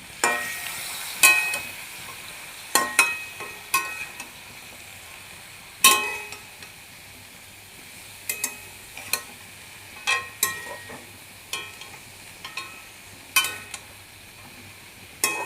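Potato and greens-stem curry with turmeric and salt being sautéed in a pan, soft sizzling beneath repeated sharp scrapes and clinks of a spatula stirring at an uneven rhythm, close and fairly loud, with no talking.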